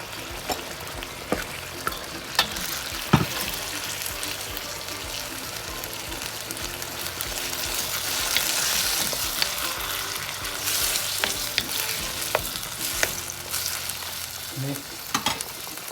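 Beef sizzles and is stirred in a pan of boiling Mongolian beef sauce, a steady close frying hiss with scattered scraping stir clicks throughout and no talk.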